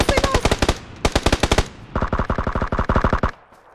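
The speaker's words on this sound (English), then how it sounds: "I'm shooting him" Automatic gunfire from PUBG comes in rapid, loud bursts: a long rattling volley, a short pause, then another sustained stream of shots that cuts off abruptly.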